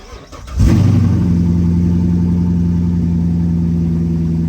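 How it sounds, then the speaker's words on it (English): A Corvette engine with a makeshift exhaust cranks and fires after a brief moment, then settles into a loud, steady, rumbling idle close by with no talk. "let's start up with this makeshift exhaust right here"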